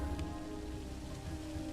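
Steady rain pours down at night in the stealth strategy game Phantom Doctrine, a dense, even hiss of drops on surfaces with a low rumbling bed, continuous and fairly close throughout.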